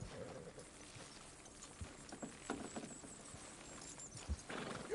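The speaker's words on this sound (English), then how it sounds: "Horses will pull it clean down" Horses straining to pull a structure down in the Red Dead Redemption 2 video game, hooves clip-clopping in an uneven rhythm over a dense ambient bed, with thuds and a creak near the end.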